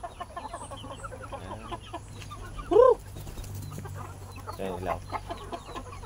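Native chickens cluck in a farm chicken coop, with a few distinct calls rising over a steady murmur of softer clucks and low background hum, and a brief spoken phrase.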